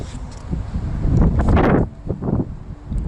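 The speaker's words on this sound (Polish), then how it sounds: "wiatr się zerwał." Gusts of wind buffet the microphone in loud, uneven rushes, swelling and dropping over a few seconds.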